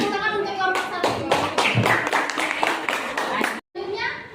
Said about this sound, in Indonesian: Sekali lagi tepuk tangan untuk kelompok 1.